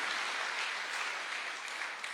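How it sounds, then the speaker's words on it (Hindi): Applause from an audience at an event, a steady dense clatter of many hands clapping that fills the whole stretch at a fairly even level, with no voices over it. "जोरदार तालियां होनी चाहिए इतनी शानदार संस्था के लिए।"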